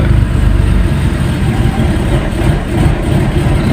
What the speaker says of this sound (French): on est en phase de réchauffement moteur, donc de starter